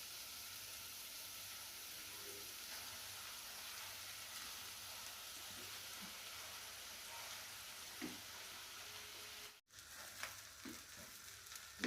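Rice sizzling in a pan while being stir-fried for restaurant-style Chinese fried rice, a steady close hiss of frying with occasional stirring scrapes and a brief clatter near the end.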